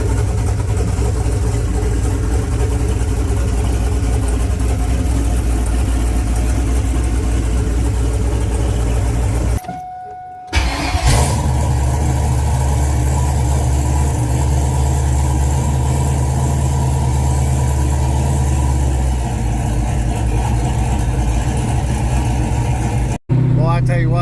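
Idle of a 1998–2002 F-Body car engine fitted with a new power steering pump: a steady, loud low rumble with a short dropout partway, under occasional talking.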